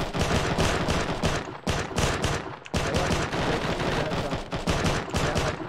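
Dense, rapid bursts of gunfire crackle loud and close in near-continuous volleys with brief pauses, recorded on a helmet camera during combat on Operation Askalon Road.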